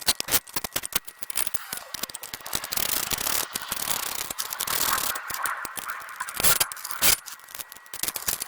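A hand ratchet clicks in quick irregular bursts while tightening Air Lift LoadLifter 5000 air bag mounting bolts, with scraping and metallic rattles close by under a workshop background.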